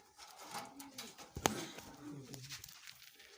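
A pair of racing pigeons coo softly inside a coop in a few low, rounded calls. The sound is faint and close, and one sharp click cuts in partway through.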